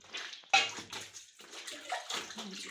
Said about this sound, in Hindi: तो यहाँ मैंने वॉशिंग पाउडर में कपड़े भिगोए हुए हैं, इनको मल रही हूँ